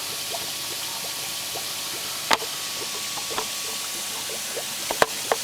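An FR509 fluidized reactor filled with pearls bubbles steadily in an aquarium sump, with a constant watery wash and scattered small pops and a few sharper clicks, close and moderately loud.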